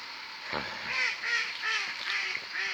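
Duck quacking in green countryside during a leisurely walk, a series of nasal honking calls repeating roughly every half second, moderately close and fairly loud, with no talking over them.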